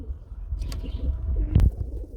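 A Lahori pigeon coos in soft, low repeated calls close by, over a steady low rumble, with a brief louder burst of noise near the end.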